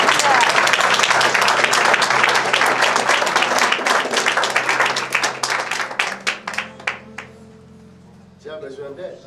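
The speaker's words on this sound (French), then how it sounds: "Acclamez pour Jésus." Congregation applauding loudly at a church deliverance service, dense clapping that thins into scattered individual claps and stops, followed by a voice speaking over a low hum.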